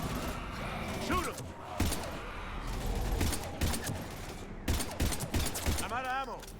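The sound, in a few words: gunfire in video game Mass Effect 3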